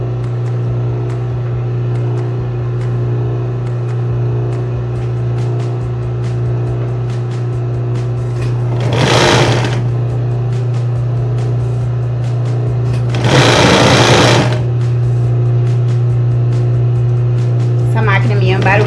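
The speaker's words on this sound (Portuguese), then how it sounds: "Essa máquina minha é barulhenta, né? Desculpa aí o barulho." A noisy sewing machine stitching cloth makes a steady, loud motor hum close by, with two short, harsher bursts of faster stitching midway through.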